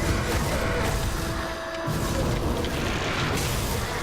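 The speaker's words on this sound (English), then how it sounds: "this is where many explosions happen, because I'm a demolitionist" Explosions from the action game Grim Dawn: Forgotten Gods, played as a demolitionist, rumble as a steady, dense wash of booms and crashing debris with a brief lull partway through.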